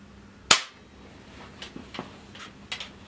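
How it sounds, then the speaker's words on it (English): A single sharp air gun shot cracks through a chronograph, loud and close, followed by a few faint clicks and handling ticks. "now fired six shots through the chronograph"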